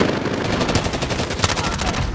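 Rapid automatic fire from a Stoner machine gun in Call of Duty rattles out as a dense, loud burst of closely spaced shots with no pause.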